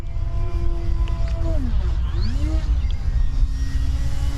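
A small E-flite Commander mPd electric RC plane motor whines at throttle, its pitch swooping down and back up as the plane maneuvers overhead, steady and fairly close against low outdoor rumble.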